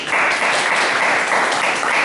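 Steady, dense applause from a church congregation during a Sunday family worship service, clapping to celebrate a staff member's birthday; loud and continuous throughout, with no voices over it.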